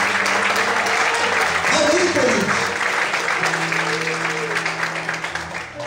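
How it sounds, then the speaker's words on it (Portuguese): Sustained applause from a church congregation during a service, dense and steady, with some voices and faint musical tones underneath, easing slightly toward the end. "Você pode aplaudir ao Senhor nessa noite"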